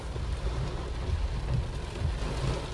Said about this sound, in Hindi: देखिए भाई क्या केड़ी बारिश आ रही भाई